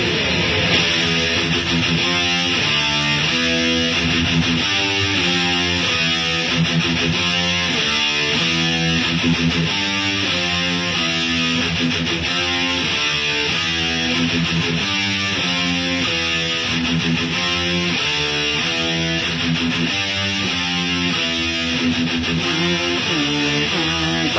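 Heavy distorted metal guitar riffing, with stereo guitar tracks folded down to mono so a phasey, flanging sweep colors the sound; dense, loud and steady throughout with no talking.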